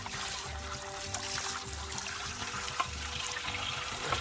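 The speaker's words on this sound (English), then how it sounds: "So I'm here filling the water." Water gushes steadily from a pipe into plastic totes on rural land with no pump, a continuous close trickling rush with a low rhythmic gurgle underneath.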